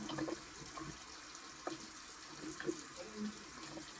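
A bathroom tap runs in a steady soft hiss of water into the sink, with scattered small splashes and clinks, faint and close under brief voice sounds.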